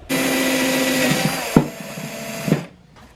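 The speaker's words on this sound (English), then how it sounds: "drill a hole through here and then drill a little hole in the back of this" A power drill cuts a hole through a new vehicle's grille, its close, loud whine running steadily, dipping briefly with a sharp clunk midway, then spinning again before stopping.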